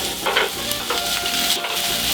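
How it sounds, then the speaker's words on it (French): Spicy Italian sausages fry in a hot pan, a close, steady sizzle broken by short scraping and clinking as tongs turn and shift them. "Les saucisses avancent et les saucisses dans la poêle."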